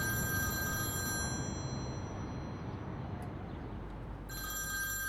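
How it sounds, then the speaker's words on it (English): A telephone rings in a pizzeria at night, a faint repeated electronic ring that stops midway and then resumes over a steady background hum, with no voices. "when his phone rings"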